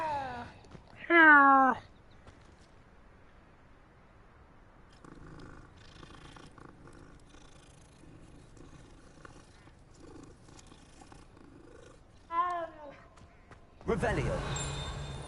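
Cat purring in the video game Hogwarts Legacy, a low rumbling purr running through the middle under occasional soft game sounds, framed by brief meows and a burst of louder noise near the end; a voice speaks briefly.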